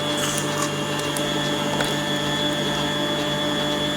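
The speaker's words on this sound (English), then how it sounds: "So I'm nearly done with the mincing." A meat mincer grinds sausage meat for English breakfast sausage with sage and thyme, giving a steady close mechanical whir and hum with faint clicks, running without pause.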